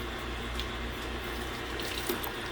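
Water flushes steadily through a 2010 Ford Edge heater core in a dual-zone AC system, a constant close rushing hiss with no pauses.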